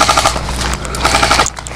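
Quick bursts of airsoft gunfire during a backyard airsoft match, several sharp clicking shots in rapid succession, loud and close, with a short pause midway.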